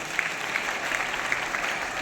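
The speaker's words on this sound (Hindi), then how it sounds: "बजाओ ताली उनके लिए।" An audience claps steadily at a spoken religious and cultural discourse, a dense even patter of many hands held at moderate distance without pause for the whole stretch.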